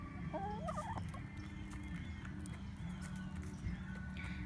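Several hens cluck softly around a flock block, with a few short rising calls over a low, steady background rumble; the birds sound fairly distant and quiet.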